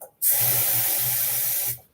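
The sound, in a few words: Declaration Grooming B5 shaving brush wetted under running water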